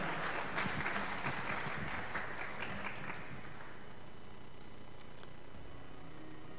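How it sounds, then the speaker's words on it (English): An audience at a responsible AI workshop applauds to welcome a professor, the clapping full at first and then thinning and fading away into a quiet room after a few seconds. "A round of applause for Professor Ponyo."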